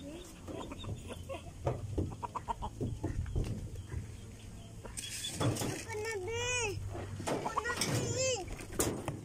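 Chickens being fed cluck and call, with a few rising squawks standing out near the end over steady background noise and faint voices.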